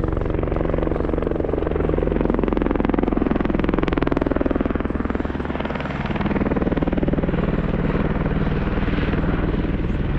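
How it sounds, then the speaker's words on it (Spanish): A helicopter flying supplies to a camp in a park, its steady, loud rotor thump and engine drone continuing throughout with only a slight dip midway. "el helicóptero en realidad va y viene a cada rato porque tiene que llevar los insumos"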